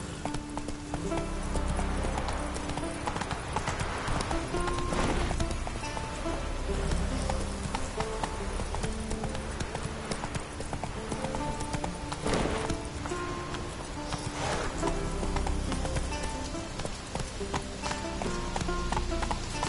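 Horse hooves clip-clop at a steady galloping rhythm throughout, close and loud in the open-world fantasy game The Witcher 3 on PS4, with rain and ambient music layered underneath.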